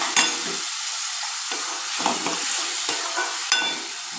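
Grated tomato pulp hissing and frying in a pan for a fish curry, a steady close sizzle broken every half second or so by soft scraping stirs, with no talking.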